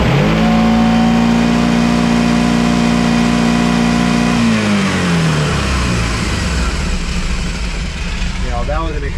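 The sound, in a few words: UTV engine revving as throttle is applied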